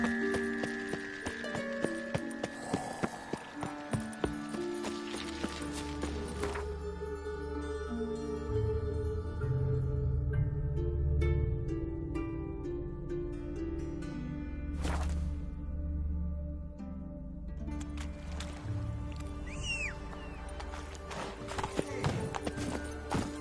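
Roach, Geralt's horse in The Witcher 3, galloping with steady, rhythmic hoofbeats that run through the whole stretch, joined by occasional whooshes and a brief whinny amid game music.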